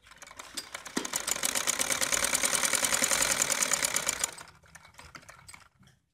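Sewing machine stitching the sleeve of a linen kameez, a rapid steady mechanical rattle running for about four seconds before stopping, then quiet with faint handling noise.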